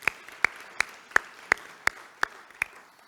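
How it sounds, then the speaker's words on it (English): At a Rotary club meeting, a sparse round of applause comes through as eight evenly spaced, sharp claps, like one person clapping steadily at a moderate pace over a quiet room. "we can give him a round of applause"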